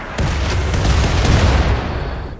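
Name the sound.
mortar fire in the video game RimWorld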